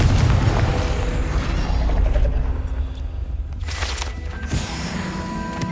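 An explosion spell from the video game Hogwarts Legacy going off as a loud, rumbling boom with a sustained roar that slowly thins, followed by a few sharp bursts and chiming magical tones near the end.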